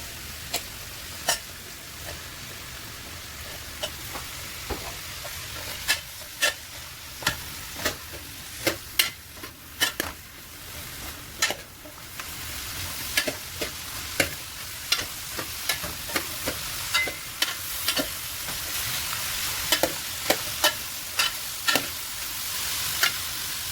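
Chopped vegetables for avial stirred in a pan, with repeated sharp scrapes and taps of a spoon against the pan over a soft, steady sizzle, close and fairly quiet.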